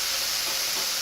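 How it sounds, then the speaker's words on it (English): Kohlrabi stir-fried in a pan, giving a steady close sizzle and hiss of frying with faint stirring, no voices. "what we're going to do is just stir fry them, maybe stir steam them with a little water"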